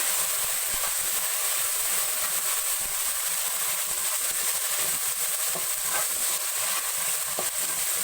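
Tomatoes frying with garlic in a pan give a steady, close hiss of sizzling oil that runs unbroken and evenly loud throughout, with no voices.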